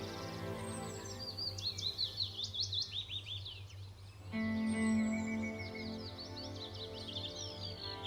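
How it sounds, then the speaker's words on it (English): A willow warbler sings a series of soft descending phrases among pine stands, clear and moderately close, over a steady low background hum, with other faint chirps behind it. "The soft, plaintive call of the willow warbler."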